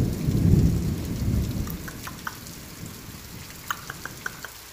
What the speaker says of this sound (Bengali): বাইরে অঝোরধারে বৃষ্টির শব্দ।